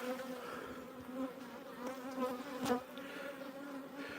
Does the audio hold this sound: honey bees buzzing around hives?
yes